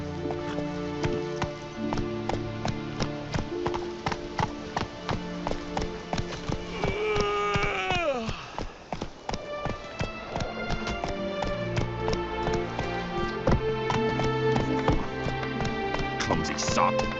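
Hoofbeats of a galloping horse in the game The Witcher 3, a steady rapid clip-clop running throughout under layered music, with a voice speaking over it.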